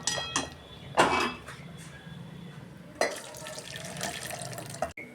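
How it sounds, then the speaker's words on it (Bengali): Water poured into a pot of potato curry (aloo dum with chandramukhi potatoes), heard as a couple of short splashing pours with a running, tap-like wash in between and a small clunk near the end. "ঢেলে ফেলছি আমি।"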